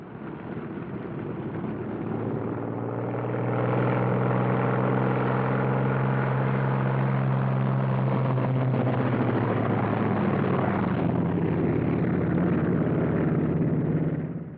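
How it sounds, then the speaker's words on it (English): Pair of military aircraft taxiing out for departure, heard as a loud, sustained engine roar with a deep rumble that swells a few seconds in and then holds steady and close for most of the clip. "Second pair taxis out."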